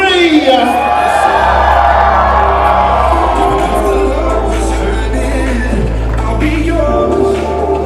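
A large wedding reception crowd cheers, whoops and screams loudly and continuously for the newlyweds, a roaring wall of excited voices.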